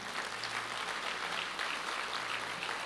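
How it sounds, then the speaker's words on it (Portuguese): Steady applause from a church congregation, a dense continuous patter of many hands clapping that holds at an even level throughout with no talk over it. "Aplauda o Senhor."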